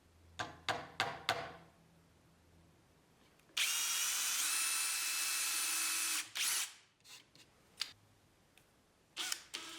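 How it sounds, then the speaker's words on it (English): A brad point bit drills into a case panel with a steady high whir lasting a few seconds, framed by a run of sharp clicks before and scattered clicks and taps after. "I'm going to mark with a brad point bit where to actually drill"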